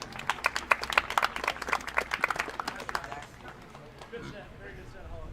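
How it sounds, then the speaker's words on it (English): Spectators at a county livestock show applaud exhibitors after a Hampshire hog class, a burst of lively clapping that tapers off after about three seconds, leaving quieter room noise. "Give those kids a big round of applause."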